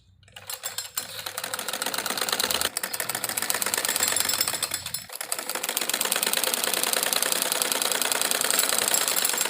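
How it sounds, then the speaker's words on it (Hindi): A sewing machine runs steadily, stitching a double line along the edge of a semi-Patiala salwar. It makes a loud, fast mechanical clatter with a couple of brief pauses before running on continuously, with no talk over it. "फिर हम ऊपर की तरफ किनारे किनारे पर सिलाई लगाएंगे डबल"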